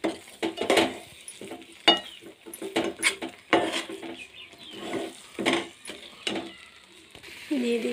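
A Parle biscuit mixture is stirred in a pan, giving irregular scraping and clinking strokes of a utensil against the metal, moderately close and with no talking.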